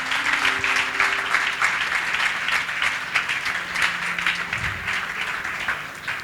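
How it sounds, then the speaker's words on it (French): A church congregation breaks into sustained applause to acclaim the Lord, a dense, even wash of many hands clapping steadily throughout with no break. "Est-ce que tu peux acclamer le Seigneur?"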